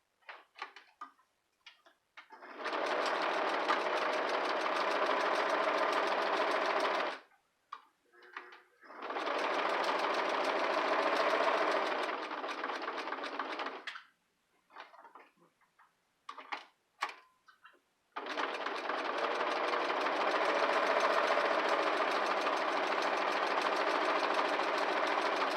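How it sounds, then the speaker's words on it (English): A sewing machine top-stitches around a fabric square for a candleholder centerpiece, running in three long, steady bursts of rapid mechanical stitching separated by short pauses with faint handling noises. "now we're gonna top stitch all the way around the square and close that opening up"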